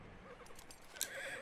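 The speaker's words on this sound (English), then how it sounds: "Whoa. Easy, horse." A horse in the Red Dead Redemption 2 video game gives a brief whinny near the end, over faint background ambience and soft hoof sounds, with no talk.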